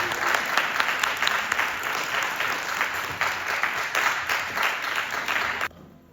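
A church congregation at a Sunday service breaks into sustained, loud applause, dense steady clapping filling the room for several seconds before it cuts off abruptly.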